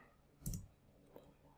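Keys on a computer keyboard clicking during slow typing, a single sharp close keystroke followed by a fainter second tap in a quiet room.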